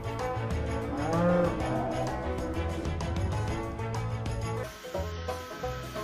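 Dairy cows in a milking parlor moo repeatedly, with long, loud lowing calls over a busy mechanical background.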